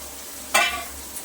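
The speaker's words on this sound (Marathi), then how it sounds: "आता लगेचच आपल्याला ह्याच्यामध्ये जे आपण सोया चंक्स ठेवले होते ते मिक्स करून घेऊया" Soya chunks stirred into soya pulao frying in a pan, a quiet sizzle with one brief, sharp scrape of a spoon midway and a faint tap near the end.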